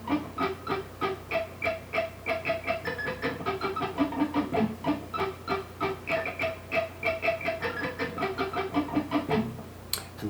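Guitar picking lick on a single string pattern, a steady run of quick, evenly spaced plucked notes played close and alone for about nine seconds, ending abruptly.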